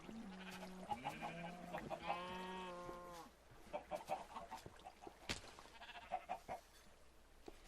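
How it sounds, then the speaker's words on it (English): Farm animals in the Minecraft survival game, including chickens, sheep and goat-like bleats, call in a busy overlapping cluster, with drawn-out bleating in the first seconds followed by short clucks and animal noises. "Got all the chickens hopping up and down in the water there in the corner."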